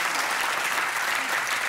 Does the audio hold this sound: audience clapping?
yes